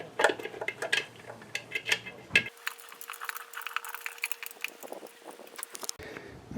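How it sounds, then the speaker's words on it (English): Air box cover being fitted onto a Harley-Davidson motorcycle during a vacuum fuel valve replacement: scattered metallic clinks and rattles, a brief tonal hum in the middle, fairly close and moderately quiet. "we'll go ahead and put our air box cover on"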